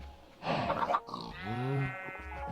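A Minecraft sheep gives one wavering, nasal bleat that rises and falls over about a second. Before it comes a short grunt-like animal noise, and both stand fairly clear against a quiet background.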